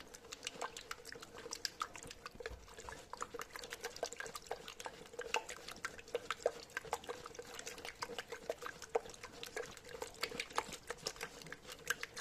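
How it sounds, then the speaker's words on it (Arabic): A black seed soap mixture is stirred by hand, giving a fast, even run of small wet clicks and sloshes up close that continues without a break for the whole stretch. "وغادي نخلطها مزيان. باش تخلط مزيان مزيان مزيان"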